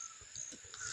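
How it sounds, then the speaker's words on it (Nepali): A few faint crow-like caws call out in the distance over a steady, thin background hiss. "त्यही भएर चराहरू पुरा कराइरहेको छ।"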